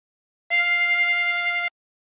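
A single harmonica note drawn on hole 5, held steady for just over a second, clear and close with rich harmonics and nothing else around it.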